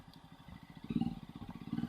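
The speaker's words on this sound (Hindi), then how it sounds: "ये एग्जॉस्ट नोट" Quiet, steady low thump of a Jawa 42 motorcycle exhaust idling and blipping, with a pulsing rhythm that swells slightly louder toward the end; no talking over it.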